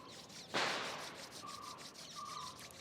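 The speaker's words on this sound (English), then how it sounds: "rub your both the palm" Close, faint friction of two palms rubbed together during a beginners' yoga session, one strong swish followed by softer rubbing strokes, with no talking.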